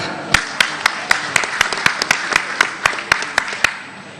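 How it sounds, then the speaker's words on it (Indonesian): Applause at a political gathering, heard as a run of about fifteen sharp, evenly spaced claps over a soft background murmur. "Kita berikan tepuk tangan yang meriah."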